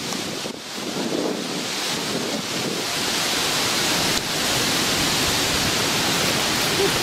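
Strong wind gusts buffet the microphone outdoors in a village, a steady loud roar of broadband rushing noise that barely lets up for the whole stretch.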